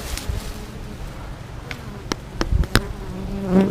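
Honeybees from a caught swarm buzzing at a hive entrance outdoors, a steady insect drone with several sharp, close fly-by bursts as bees come and go.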